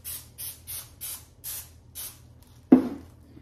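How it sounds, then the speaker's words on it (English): Six quick hissing bursts from a spray bottle misting paper for sourdough sandwich bread, evenly spaced and close, followed by a single louder thump as something is set down. "I'm just going to spray"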